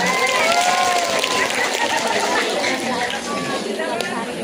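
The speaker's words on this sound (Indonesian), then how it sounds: "Boleh dong tepuk tangan." An audience at a Sundanese haul commemoration breaks into sustained applause, a dense wash of clapping that holds steady for several seconds while a voice talks over it.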